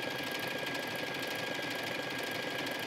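Sewing machine running at a faster speed, stitching straight across the top edge of a pair of leggings; a steady, even mechanical whir and rapid needle chatter held close and continuous throughout.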